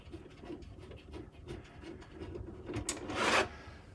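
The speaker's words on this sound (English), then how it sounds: "I'm just going to unscrew the very final one from the back of the machine." Close, faint scraping and turning of a screwdriver backing out the last screw from the rear of a SEFA Clam Pro heat press, with small rasping ticks that end in a brief louder rub, and no talk.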